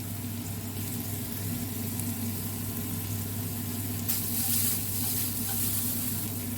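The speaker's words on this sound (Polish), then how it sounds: "Cebula już tyrkocze" Chopped onion sizzles and fries in a pan before mushrooms go in, a steady, close crackling hiss that runs on without a break beneath a low hum, with a faint clink partway through.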